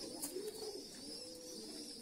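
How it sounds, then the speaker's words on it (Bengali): Two young silver line pigeons, squab of the down-face type, coo softly and steadily at close range, a low continuous murmur with no talking. "এই হচ্ছে সিলভার লাইনের কবুতর 2টা"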